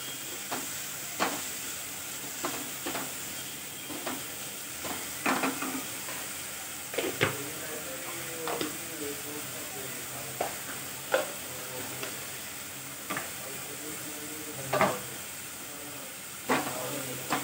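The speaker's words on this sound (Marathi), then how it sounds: "मिक्स करून घ्यायचं।" Onion and potato with salt being stirred in a hot pan for shevai upma: a steady frying sizzle with a spoon scraping and clinking against the pan every second or two, close and moderately loud.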